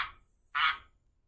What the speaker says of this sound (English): You hear that frog?